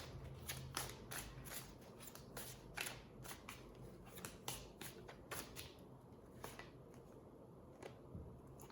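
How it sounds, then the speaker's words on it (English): Tarot cards are shuffled and picked up close by, giving soft riffling flicks and sharp papery snaps in irregular bursts against quiet room tone. "Now I'm not clarifying, I'm just picking up cards."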